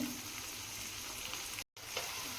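Vegetables for fried rice being stirred in a hot pan with turmeric, chili powder and salt, sizzling and frying steadily at close range with a brief silent gap near the end, no talking.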